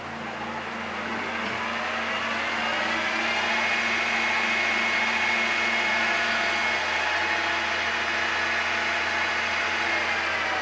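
An IMO Jaguar Cub CNC spindle motor on a variable frequency drive runs at moderate volume with a smooth, steady electric whine. Faint rising tones sit inside the hum as it holds speed.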